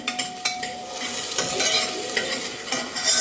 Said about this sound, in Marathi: मिर्ची हलवून घ्यायचं